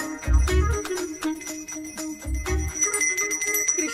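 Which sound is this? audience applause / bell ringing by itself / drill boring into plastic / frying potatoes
bell ringing by itself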